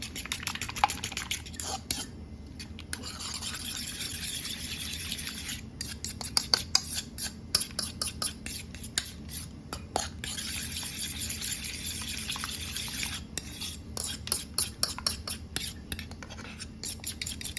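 Eggs mixed with ham and bacon are whisked in a bowl, giving a fast, continuous clatter of utensil against dish with brief pauses, close up.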